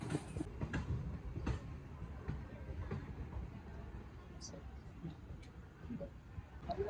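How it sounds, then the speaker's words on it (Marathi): Low rumbling train noise with faint rattling and occasional higher squeaks, heard from inside a sleeper carriage as the train departs Kalyan station, with murmuring voices in the background. "कल्याणवरून आता जस्ट ट्रेन निघाली आहे"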